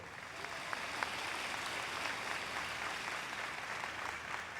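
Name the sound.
congregation applause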